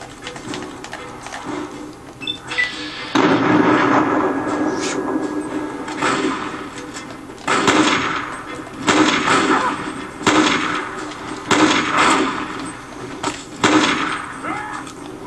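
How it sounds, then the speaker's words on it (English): Gunfire in Fallout 3: several loud bursts of shots spaced a few seconds apart, each with a broad crack and short tail, over a busy game background with some talk. "Four shots."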